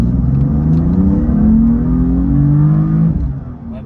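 A BMW M4 CS accelerates hard in a quick highway merge, its engine note rising loud and steady from inside the cabin for several seconds before easing off at the end.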